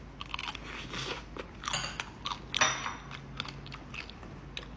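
Crunchy bites into a frozen fruit roll-up wrapped around ice cream, giving several close, sharp crackling crunches followed by steady chewing, with no talking.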